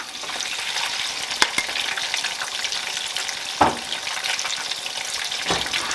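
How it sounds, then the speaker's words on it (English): A sauce base bubbles and sizzles in a pan over medium heat while a cheddar cheese mustard sauce is being made. The sizzle is steady and close, with a few sharp clinks of a utensil against the pan. "Let it bubble here over medium heat for about a minute"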